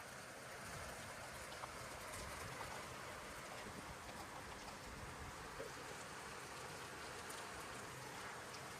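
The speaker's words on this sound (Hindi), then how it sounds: "तो मुझे पता चला बारिश हो रही है बाहर।" Steady rain falls outside in Meerut, a dense, even hiss of drops on surfaces that holds unbroken and moderately loud throughout.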